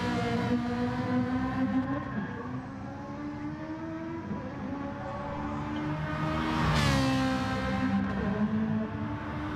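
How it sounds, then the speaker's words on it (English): A Ferrari race car lapping a circuit during a race, its engine holding a steady high-pitched drone before a louder surge and whoosh as it sweeps past near the end. "let's go take a look at Vinny Grasso in his Ferrari and see how he's faring down here."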